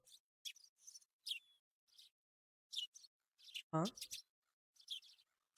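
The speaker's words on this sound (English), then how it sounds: "The chirping of birds served as my alarm clock." Bright bird chirps in the video game Higurashi When They Cry: Watanagashi, short scattered tweets repeating at irregular intervals, faint and thin, with a single brief spoken interjection partway through.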